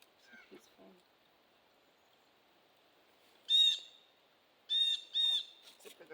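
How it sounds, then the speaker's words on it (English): Birds call on a quiet wooded nature trail beside a small creek in Madison County near Huntsville, with three clear bursts of chirps midway and later over faint background murmur and brief voices at the start. "Except for the one random bird."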